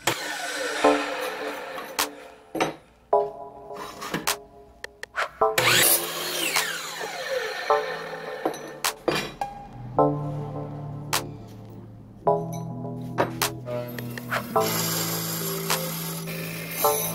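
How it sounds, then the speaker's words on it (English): A Hitachi power saw fitted with a swapped blade cuts pieces of steel in a workshop, with intermittent loud bursts of grinding and ringing metal, pauses, clanks and rubbing scrapes between cuts. "now it's time to cut out a few pieces of steel. Got the blade swapped out on the Hitachi"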